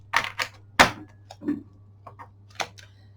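Stiff, oversized cards being shuffled by hand, with irregular slaps, flicks and riffles, a few sharp louder snaps among quieter rustles, close up.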